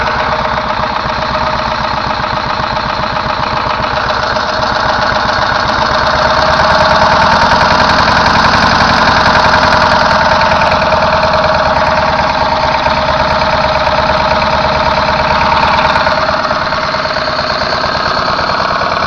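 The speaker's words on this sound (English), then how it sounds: "Runs nice and smooth, and it's relatively quiet compared to most lawnmowers." Small lawnmower engine running on a GEET fuel reactor, idling steadily and smoothly with a continuous near drone and even tone throughout, no speech.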